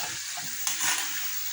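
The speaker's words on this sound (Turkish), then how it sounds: "hamurlarımız güzel kızardı" Dough pieces frying in hot oil give a loud, steady bubbling sizzle close by, with a brief sharper crackle partway through and no voices.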